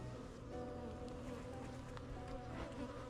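A honeybee colony hums around an opened hive with the brood frames exposed, a dense, continuous close buzz of many wings that stays even throughout.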